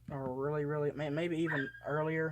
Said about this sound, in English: sorry if you hear that barking, that's my dad's pit bull